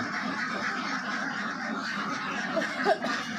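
Ducks quack on a farm of about four hundred and fifty ducks, a faint, steady flock murmur with a couple of clearer quacks near the end.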